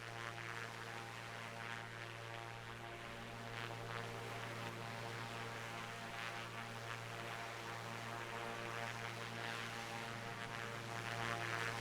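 Propeller aircraft in a flight simulator game, a steady droning engine hum with a slight swell toward the end, faint and continuous, no voices.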